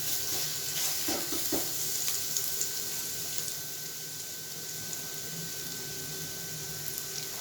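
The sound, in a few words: finely chopped garlic sizzling in a pan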